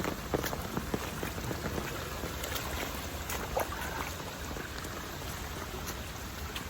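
Heavy rain falls on a hillside hiking trail near a rushing stream, a steady wash of drops with scattered sharper patters close by and water running beneath, no voices.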